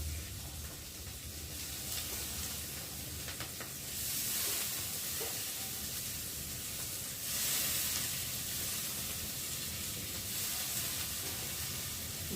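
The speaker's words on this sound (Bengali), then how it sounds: "এবারে দিয়ে দেবো যে ভিজিয়ে রাখা মুসুরি ডাল।" Soaked masoor lentils hit hot oil in a pan and give off a steady, close hiss and sizzle that swells briefly around four and again near seven to eight seconds, with no talking.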